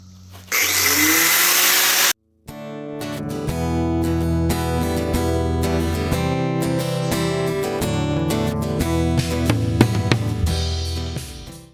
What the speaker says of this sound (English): now we got to cut this weld with a good old death wheel.